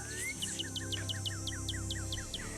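Birds in the Nancy Drew: Ghost Dogs of Moon Lake video game chirp in a quick, regular series of short paired tweets, clear and fairly close over a soft low background hum.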